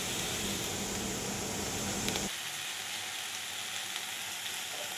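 Turmeric fries in a covered pan with a dense, steady sizzle and hiss that drops to a softer, even frying after a couple of seconds.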